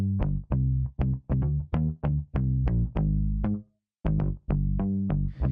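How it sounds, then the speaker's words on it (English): Electric bass playing a rhythmic pop line of short, punchy plucked notes with a brief gap midway, carrying a subtle touch of Sound Toys Devil Lock distortion plugin saturation; up front and without talk. "Yeah, really subtle, little bit of distortion"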